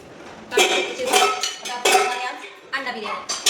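Metal pots and pans pulled out and clattered together in a home kitchen, a run of loud ringing clanks and bangs arriving in irregular bursts close by.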